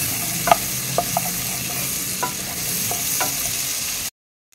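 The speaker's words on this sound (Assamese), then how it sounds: "পিঁয়াজৰ পিছত এবাৰ মই দিলোঁ নহৰু কুটা" Onion and chopped garlic fry together in a pan, a steady close hiss with a few light stirring knocks, ending abruptly in silence.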